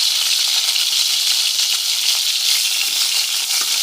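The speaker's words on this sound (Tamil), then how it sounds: "அதில் வந்து இப்போ ஒரு 5 எண்ணெய் கத்திரிக்காய் வந்து ஆட் பண்ணி வதக்கலாம்." Eggplants sauté in sesame oil in a kadai, giving a steady, bright, hissing sizzle at an even level with no talk over it.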